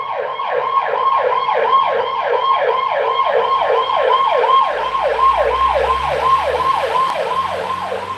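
An emergency truck's siren wails in a fast, steady, rising-and-falling yelp, loud and close throughout, with a low engine rumble building beneath it near the end.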